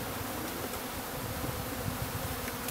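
Honey bees from a new package hum in a continuous, even drone, constant in level across the short stretch, with no speech over it.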